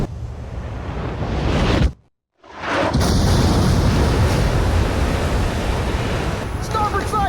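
Heavy rumbling blasts of submarine-launched missiles striking a ship in Ace Combat 5, loud and sustained, broken by a brief silent gap before the roaring impact noise resumes.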